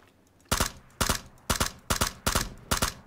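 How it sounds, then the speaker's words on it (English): Gunfire in a battle-royale style shooter: six loud, sharp bursts arrive at a roughly steady half-second rhythm over a quiet background, close and punchy. "Oh shit, they shoot at me."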